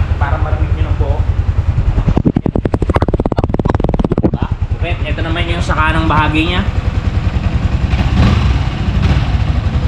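A 2024 Yamaha Sniper 155 ABS motorcycle engine idles with a rapid throbbing exhaust pulse, close by, while someone talks over it.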